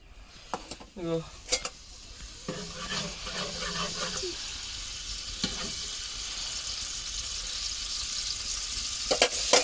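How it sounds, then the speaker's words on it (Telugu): Oil sizzles and fries in a pan while chicken curry is being cooked at home. A steady, close hiss fills the clip, with stirring and a few clinks of utensils early on. "ఇప్పుడు ఆయిల్ అయితే వేస్తున్నాను"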